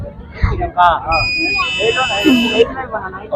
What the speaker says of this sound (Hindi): इसके आगे में कोई भी चीज आएगा संपर्क में तो अलार्म बजने लगा